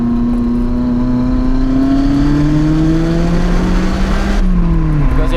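Steady engine drone of a Lotus Elise driven slowly along a winding mountain road, its pitch rising gently and then dipping as the car eases off, heard from inside the car.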